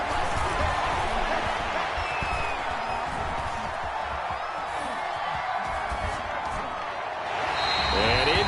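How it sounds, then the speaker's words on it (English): A football stadium crowd roars in a steady, loud wash before a third-down play in a Cowboys–Eagles game, with a commentator talking over the noise throughout. "The crowd getting into it as we come up on a big third down."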